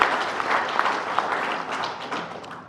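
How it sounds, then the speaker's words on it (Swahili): A crowd at a CRDB Bank shareholders' general meeting gives a brief round of applause, with steady, moderately loud clapping that thins out slightly as it continues. "Pigeni makofi kidogo."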